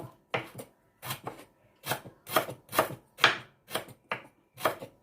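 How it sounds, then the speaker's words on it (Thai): A knife chops fresh chillies and shallots on a board in quick, irregular bursts of crisp taps, close and clear with no talking. "หั่นพริกสด หั่น หอมแดง"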